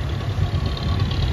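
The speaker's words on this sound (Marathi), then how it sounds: "हे बघा आपल्या समोर पण एक बोट चालत आहे" A fishing boat's engine runs steadily on the water, a constant low drone with a hissy wash, moderately distant and with no talk.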